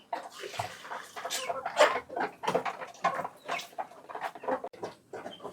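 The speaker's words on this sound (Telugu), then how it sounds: "ఇవన్నీ నాటుకోళ్ళు పెట్టారనమాట ఒక సైడ్" Native country chickens in a farmhouse coop cluck and squawk nearby in a busy, overlapping stream of short calls.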